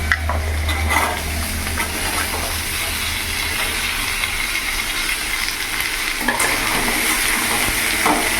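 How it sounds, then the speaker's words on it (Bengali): Papaya and soybean curry is stirred in a hot pan, a loud steady sizzle and hiss with scraping of the spoon, a couple of sharper clanks near the start and end. "ভালো করে নাড়াচাড়া করে নেবো"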